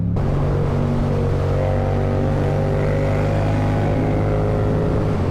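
Motorcycle cruising at about 140 km/h on a mountain road toward a village, a loud steady engine drone with constant wind rush throughout, close and continuous with no talking.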